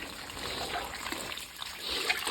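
A weak trickle of spring water runs through a hose at a rural creekside source, a soft steady dribble, close and quiet, with no talking.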